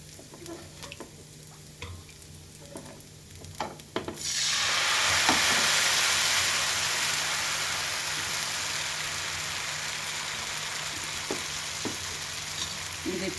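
Rava dosa batter is poured onto a hot pan and bursts into a loud, sustained sizzle after a few quiet seconds of small crackles, then holds as a steady frying hiss.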